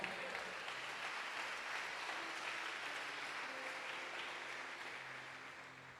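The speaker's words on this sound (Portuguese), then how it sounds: "Você pode dar um glória a Deus e aplaudir bem alto." Church congregation applauding loudly during a worship service, a steady dense clapping wash that holds for several seconds and tapers slightly at the end, with no voices over it.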